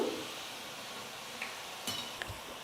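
Spinach pakoda frying in hot oil with a ladle stirring through the batch, a soft steady sizzle with a few faint scrapes and clinks, quiet and close with no talking.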